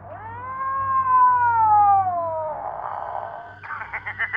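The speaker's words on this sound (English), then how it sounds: "my neighbor's cat has been a bit more out and about lately" A neighbor's cat lets out a long, drawn-out wailing meow that slides downward in pitch, followed by rougher, broken cries, fairly close and loud.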